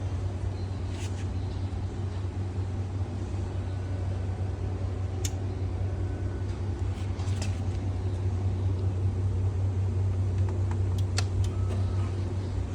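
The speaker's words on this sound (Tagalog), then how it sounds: "gumana na yung blower sa taas kasi gumagana naman talaga siya" A desktop computer's blower fan runs after power-on, giving a steady low hum and broadband whir with occasional faint ticks, constant and moderately loud throughout.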